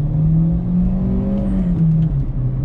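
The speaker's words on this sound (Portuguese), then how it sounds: "Nossa, que motorzinho gostoso." A VW Fox Rock in Rio car pulls away with its engine revving, a close, steady droning tone that climbs gently and then settles as it drives off.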